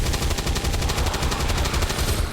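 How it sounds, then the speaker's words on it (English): The cannon weapon fires in XCOM 2 as a rapid, continuous stream of loud, closely spaced shots that rattles evenly for a couple of seconds with no voices. "Let's get the flanking shot with the cannon here from Baja"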